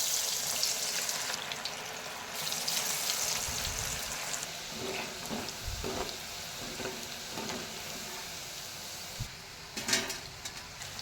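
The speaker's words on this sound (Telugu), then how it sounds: "ఇలా బాగా కలిపేసుకుని సలసలు మరుగుతున్న నూనెలో వేసేసుకుందాం" Cauliflower pakoda batter fries in boiling hot oil with a constant close sizzle, broken by a few stirring clinks and bursts of louder crackle, and no talk.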